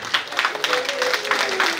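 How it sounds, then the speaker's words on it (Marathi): A hall audience at a women's entrepreneurship event claps to welcome a guest, light applause with a voice speaking over it. "आपण जोरदार टाळ्या वाजवून"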